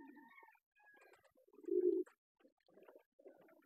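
Doves and pigeons sit sunning in a loft after feeding. Soft, low coos come in short bursts, one fuller and louder call near the middle, with faint higher chirps scattered between. There is no talking.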